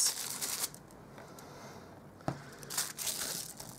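A paper trimmer blade slicing through folded aluminium foil, giving soft crinkling, scraping rustles with a sharp crunch partway through, close and quiet with no voices.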